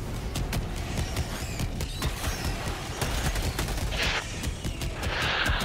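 Rapid cannon fire in Helldivers 2, a steady stream of sharp, evenly spaced blasts over a rumbling battlefield din, moderately loud and continuous throughout.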